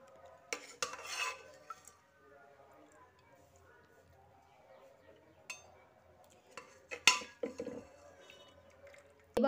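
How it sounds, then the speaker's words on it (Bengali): Boiled cabbage, potatoes and tomatoes are lifted out of a pressure cooker in a quiet kitchen. A few scattered metallic clinks and scrapes of utensils and the lid come in brief, separated bursts over near silence. "এবার প্রেসারের ঢাকনাটা খুলে বাঁধাকপি, আলু ও টমেটোগুলো বার করে নিচ্ছি।"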